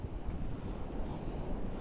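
Broadband rushing surf with steady wind buffeting the microphone, continuous and fairly loud, no voices.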